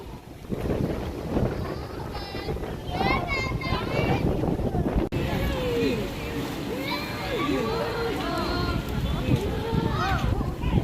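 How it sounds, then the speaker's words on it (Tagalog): Steady, broadband wind roars across the microphone throughout, with people talking and calling out over it. "Tsaka lakas ng hangin."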